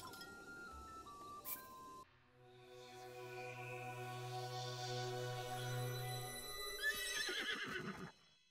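A horse in The Legend of Zelda Breath of the Wild, revived by the Great Fairy, neighs in a long, loud whinny after a bright chime, with clinking, sparkling tones around it.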